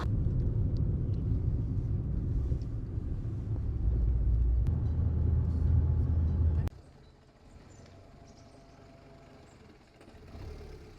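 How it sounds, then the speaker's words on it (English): Inside a moving Renault Twingo, a steady low engine and road rumble runs for several seconds, then drops abruptly to a quieter hum with light cabin noise. "Mission to get back home in the Renault Twingo."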